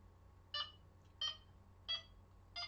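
A Delkim carp-fishing bite alarm set to maximum sensitivity gives four short, evenly spaced electronic beeps, close and clear over a faint low hum.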